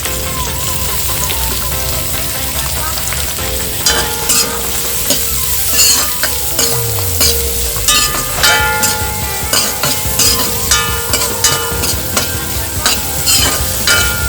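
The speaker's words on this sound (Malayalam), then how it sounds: "ഇനി നമുക്ക് കുറച്ച് വേപ്പില സവാളയും കൂടി വാട്ടിയെടുക്കാം." Onions and curry leaves frying in a pan for an egg curry, a steady loud sizzle with repeated stirring scrapes of a spoon against the pan, no voices.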